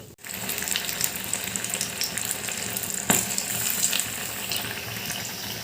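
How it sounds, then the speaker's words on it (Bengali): Spiced chilies for chili chop fry in hot oil with a steady, close crackling sizzle that runs throughout, broken once by a sharper pop or tap; no talking. "এরকমভাবে বাকিগুলো ভেজে নেব"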